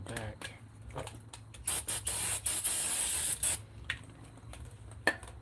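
Brake cleaner hisses out of an aerosol can in a sustained spray of about two seconds, bracketed by shorter bursts, close by during brake caliper work, with a voice speaking intermittently around it.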